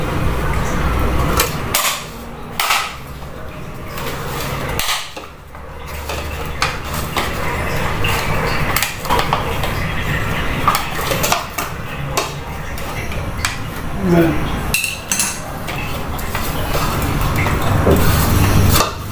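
The cover being fitted onto a homemade drum-style extension cord reel: a series of close knocks, clacks and rattles at irregular intervals, with brief talk in between.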